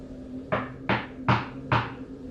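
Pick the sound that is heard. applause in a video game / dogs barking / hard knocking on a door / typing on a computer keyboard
hard knocking on a door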